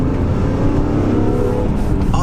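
A BMW E46 M3 engine accelerates in a short, loud, raspy burst, heard up close as a dense rumble that holds throughout.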